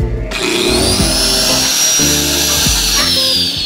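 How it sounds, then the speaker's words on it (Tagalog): An angle grinder runs off a generator under a load test, giving a steady high-pitched electric whine with a low engine drone and occasional bumps, and people speak briefly over it. "Gumagana yung grinder natin."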